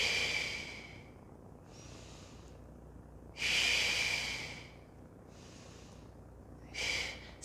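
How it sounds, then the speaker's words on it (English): Deep, audible breaths during a therapeutic yoga session: three strong airy exhales or inhales at about 0.5, 3.5 and 6.8 seconds, with softer breaths between, close and alone without talk. "A nice deep breath here."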